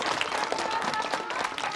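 An audience at a talk on the Picard language breaks into continuous applause, a dense patter of many hands with a faint steady tone running underneath.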